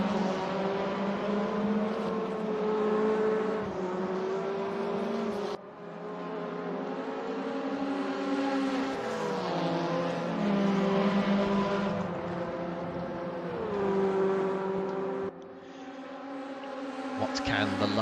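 Sim-racing engine noise from WTCC Lada touring cars in the RaceRoom game at the Salzburgring, with steady, loud, close engine drones that rise and fall in pitch as the cars accelerate and shift, running continuously over the full length.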